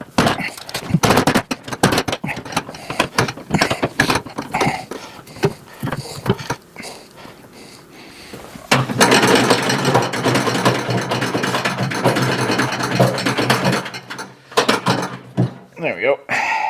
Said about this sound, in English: I'm also going to pull this wheel off just to make it easier for you to see what's going on